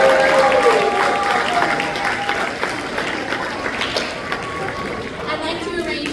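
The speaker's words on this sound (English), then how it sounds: "let's give them one more big round of applause." Audience applause after a youth production of Matilda Jr. The Musical, sustained clapping from a crowd in a hall with some chatter, gradually thinning out.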